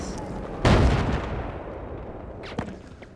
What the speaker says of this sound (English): stupid mortars